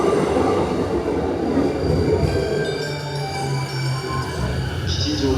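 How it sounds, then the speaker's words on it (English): A rapid train on the Chuo Line at Kichijoji, Tokyo, rumbling past close by with a steady roar, wheel hum and squealing tones, faint voices in the background. "Look how frequent the rapid trains are on the Chuo Line,"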